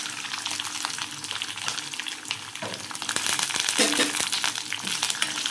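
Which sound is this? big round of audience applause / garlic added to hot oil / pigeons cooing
garlic added to hot oil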